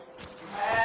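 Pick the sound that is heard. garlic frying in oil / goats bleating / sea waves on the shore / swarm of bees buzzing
goats bleating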